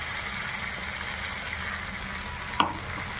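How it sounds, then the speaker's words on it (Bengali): Fish frying in a pan with a paste of mustard, poppy seed, a little tomato and green chili, a steady close sizzle throughout with one brief sharp clink of a utensil near the end. "এবার আমরা সর্ষে, পোস্ত, অল্প টমেটো আর কাঁচা লঙ্কা বাটাটা এর মধ্যে দিয়ে"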